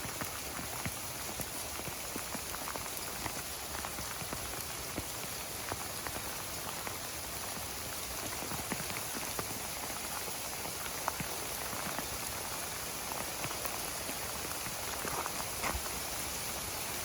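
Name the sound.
hail falling on a surface, rendered Blender hail video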